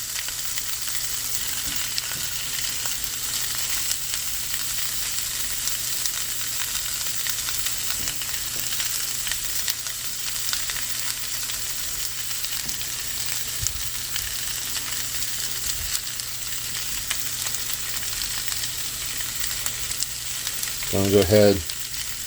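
Sausage with onions and peppers frying in a pan on a stove, a steady close crackling sizzle that runs the whole time, with a short spoken remark near the end.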